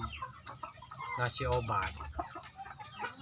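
Chickens cluck and murmur in a coop, one with a rattling, snoring respiratory illness, several short calls in a row at moderate distance while someone speaks over them.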